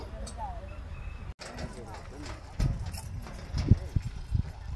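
Heavy hooves of a large carabao (water buffalo) plodding on the ground, with irregular dull thumps growing more noticeable toward the end, while people talk over them outdoors.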